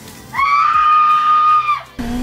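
A sustained human scream during a music video shoot, one long high held cry of about a second and a half, loud and close, starting abruptly and cutting off sharply before brief voice afterward.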